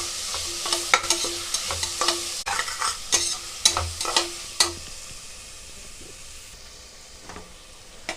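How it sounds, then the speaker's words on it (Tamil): Tomatoes sauté in a pan for vegetable rice under a steady, soft sizzle, punctuated by a dozen close, sharp scrapes and taps of a spoon against the metal, then the stirring fades to quiet frying. "அதுக்கப்புறம் தக்காளி போட்டுங்க. தக்காளி ஒரு நிமிஷம் வதக்குங்க."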